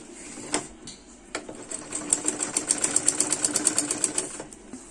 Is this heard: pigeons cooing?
no